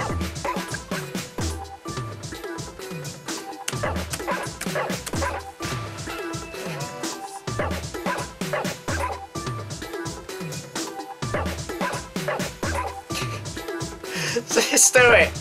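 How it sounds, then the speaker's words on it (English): A dog sample in the music game Cosmic DJ barks in repeated rhythmic yips layered into a loud, busy musical mix. "Now the dog."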